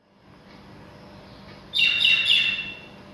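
A bird chirps outside a house, with a short, close burst of bright tweets about halfway through. Before it there is only a quiet background hum.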